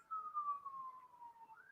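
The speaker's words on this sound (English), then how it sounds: "Sounds like an ambulance, actually." A siren from an ambulance passes outside a house, one long, slowly falling wail heard from a distance at moderate-low level, rising again near the end, with no talking.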